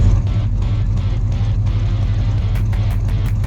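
A 1971 Chevrolet El Camino engine runs steadily on a dyno in a shop, a loud continuous low rumble that holds a constant pitch without revving.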